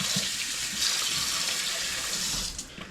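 Cold water runs steadily from a tap as potatoes are rinsed in a sink, a close, continuous splashing rush with no talk.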